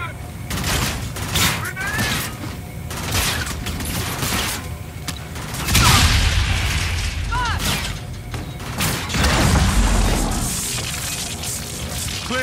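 A frag grenade blows up during a Call of Duty Infinite Warfare firefight, a loud booming blast with rumbling debris among ongoing gunfire and other game effects, with voices speaking over the mix.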